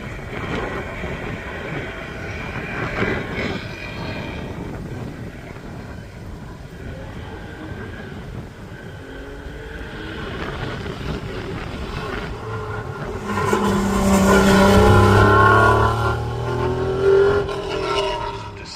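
A flat-six engine in an Irish build special hillclimb race car runs at a distance, a steady droning rumble that grows louder and rises in pitch toward the end as the car accelerates.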